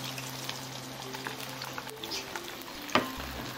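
Soy sauce sizzles faintly and steadily in a hot pan, a soft crackling hiss with small pops and a brief clink near the end, with no talk over it.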